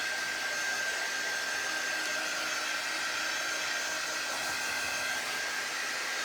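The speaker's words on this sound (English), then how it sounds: "So I'm going to dry it with my heat tool." A heat tool blows hot air to dry ink on a Christmas gift bag, a steady, close whooshing hum with a fixed whine that holds unchanged from start to finish with no talk.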